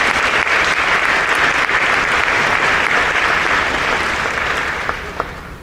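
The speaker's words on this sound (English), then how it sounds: "Give them a round of applause" An audience at a school induction ceremony for an incoming class applauds in a steady, dense wash of clapping that holds for several seconds and then gradually thins and fades, a couple of last claps standing out at the end.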